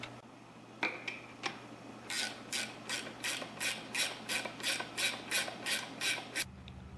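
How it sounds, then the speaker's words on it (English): Work on the snap ring of a disassembled NP241 DHD transfer case: a few isolated clicks, then a quick run of about a dozen rhythmic metallic rasping strokes, close and fairly quiet. "I'm going to get that snap ring off of here"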